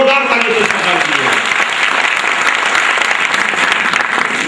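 Loud, dense applause from a large audience at a Pasmanda Muslim Samaj gathering in Ravindralay, welcoming a guest; steady clapping fills the whole span with a voice briefly audible at the start.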